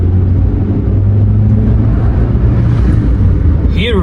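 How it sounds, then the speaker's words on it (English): A Renault Twingo's four-cylinder engine revs hard, a loud, steady droning roar with a deep low hum that holds for about four seconds, with a rising whine near the end. "Hear the 4-cylinder roar"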